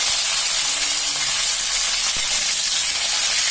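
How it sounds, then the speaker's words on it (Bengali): Whole spices and mustard oil hiss in a hot wok with a loud, dense, continuous sizzle up close, steady throughout with no talk. "এবার আমি কড়াইতে 5 ফোড়ন দিয়ে দিয়েছি, আর একটু সর্ষের তেল দেবো।"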